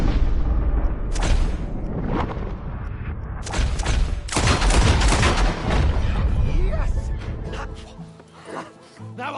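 Gunfire in a video game rings out in repeated loud, broadband bursts, several shots clustered with booming low end and trailing decay, while voices chatter over the action.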